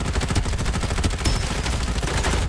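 Rapid automatic gunfire crackles continuously in the shooter video game Farlight 84, with dense repeated shots throughout and no talk.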